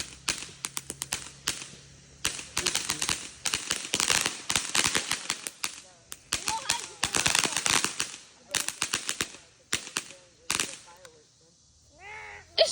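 Fourth of July fireworks and firecrackers popping in rapid irregular bursts, loud crackling strings and sharp bangs close by, with brief pauses between volleys and people chatting in the background.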